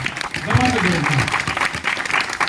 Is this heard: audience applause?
yes